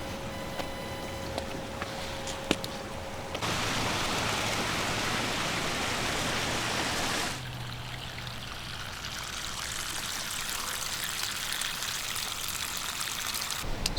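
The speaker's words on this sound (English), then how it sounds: "Still draining water" Water drains from a homemade backyard hot tub through the pump discharge, a continuous rushing trickle that grows louder and fuller after a few seconds and keeps flowing steadily.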